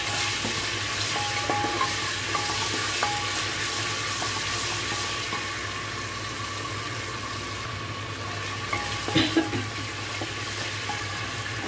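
Ginger garlic paste frying in a pan for mutton maiqaliya, with a steady soft sizzle and occasional stirring scrapes, close and fairly quiet, with no talk.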